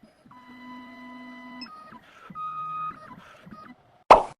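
A 2m2tank CNC key cutting machine is cutting a new Mul-T-Lock key, its motors giving off steady whining tones that step up and down in pitch. A short, sharp thump closes it out.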